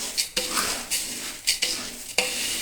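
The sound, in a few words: roasting puffed rice in a pan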